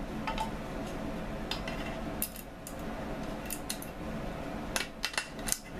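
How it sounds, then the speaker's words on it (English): Tin snips cut into the side of a tin can, giving a few sharp metallic snips and clicks, mostly in two short clusters near the end, over a quiet background. "So I'm gonna snip those."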